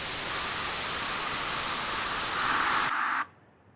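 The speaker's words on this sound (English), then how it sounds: "So here's what white noise sounds like." Loud, steady hiss of white noise static fills the clip, then cuts off abruptly near the end, leaving near silence.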